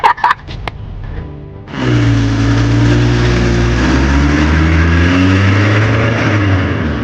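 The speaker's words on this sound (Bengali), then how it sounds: "ড্রাইভার স্পিড বাড়িয়ে দেন।" After a few sharp knocks and a quieter stretch, a car engine suddenly surges into a loud sustained roar as the car speeds up, its pitch climbing and holding steady.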